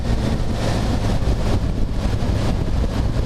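Steady, loud wind buffeting the microphone with a broad rushing roar, continuous throughout, while riding a motorbike at speed on a windy day.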